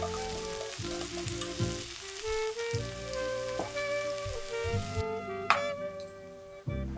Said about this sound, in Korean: 감자가 익어서 살짝 반투명한 느낌이 되면은 양송이 버섯을 넣고 가볍게만 익혀줄게요.